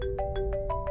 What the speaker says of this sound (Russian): Ну ответь, раз звонят.